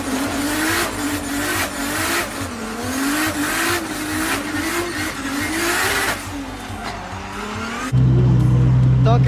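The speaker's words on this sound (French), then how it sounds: "donc là la Supra est prête et je pars contre Taylor James" A Toyota Supra drift car at a D1NZ drift competition round at Mt Smart, revving loudly with wavering engine pitch and tire squeal, a crowd and announcer-like voices under it, ending in a sudden steady low drone.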